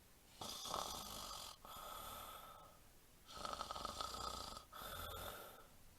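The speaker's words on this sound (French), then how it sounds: "L'agneau ronflait doucement contre sa grande oreille" A lamb snores softly in slow, even cycles, each long raspy inhale followed by a breathy exhale, close and quiet with no other sound around it.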